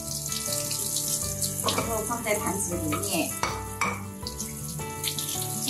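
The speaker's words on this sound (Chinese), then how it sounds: "接着我们就开水龙头的水冲洗一下" Tap water runs into a kitchen sink as fish is rinsed, a steady splashing flow with clinks of handling, while someone talks over it.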